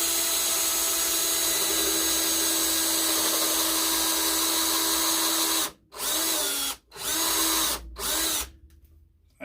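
A power drill bores into wood while building a Langstroth 10-frame beehive assembly jig, a steady loud whine running alone for several seconds before stopping and restarting in three short bursts.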